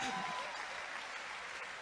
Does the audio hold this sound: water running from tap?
no